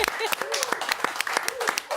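A television studio audience applauds to welcome a Grammy-winning musician, with sharp, distinct claps mixed with voices and whoops close by.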